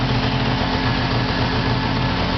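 A Suzuki Jimny LJ20 engine runs steadily at idle, a continuous close mechanical drone with a low rumbling pulse and no speech over it.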